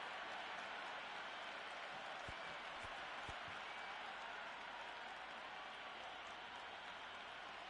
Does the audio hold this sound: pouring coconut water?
no